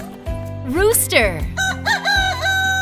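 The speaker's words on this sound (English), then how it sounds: "Rooster." A rooster crows a loud, close cock-a-doodle-doo with a rising then falling call, set over upbeat children's song music lasting under three seconds.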